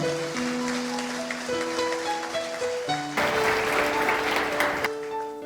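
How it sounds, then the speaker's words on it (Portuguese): A church congregation claps in response to a priest's call, steady dense applause over sustained organ or keyboard tones, swelling louder midway before easing. "Dá uma salva de palmas para essa promessa de Nossa Senhora"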